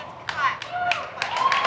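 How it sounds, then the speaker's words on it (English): An audience at a large business convention gives a few scattered, separated claps at moderate volume with some talking. "Yeah, clap. You can clap for profit."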